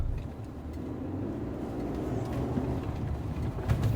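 2022 Toyota Tundra SR5 TRD Sport on the move, its engine and road noise forming a steady low rumble from inside the cab that builds slightly toward the end.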